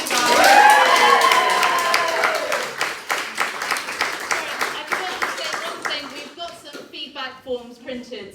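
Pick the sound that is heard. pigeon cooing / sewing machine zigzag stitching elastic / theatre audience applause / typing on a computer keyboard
theatre audience applause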